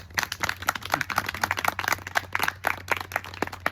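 A small group at a peace festival claps softly and unevenly, with scattered individual claps in loose rhythm, fairly faint and close, without talk over it.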